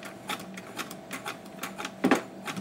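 A vintage Singer 66 sewing machine, turned by hand without its belt, stitches quietly, making a soft, steady series of rhythmic mechanical clicks and ticks, with one sharper clack near the end.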